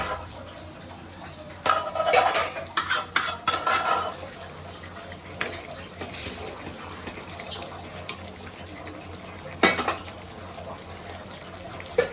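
Gongura leaves going into a pot of tiger prawn curry, with metal clatter of a ladle against the pot and bursts of stirring and scraping over a faint background hum; a voice speaks briefly.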